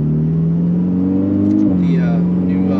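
A Ferrari 488 GTB with a Eurocharged-tuned twin-turbo flat-plane crank V8 holds a loud, steady engine drone, then its pitch dips and shifts midway as the revs change, with a voice speaking over it.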